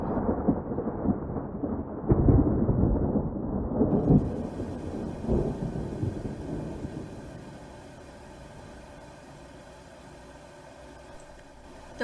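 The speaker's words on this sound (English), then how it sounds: "watching the rain pummel the windshield and the bolts of severe-looking lightning that lit up the sky" Heavy rain pounds loudly on a windshield with deep rumbles, then eases to a softer, steady hiss for the rest.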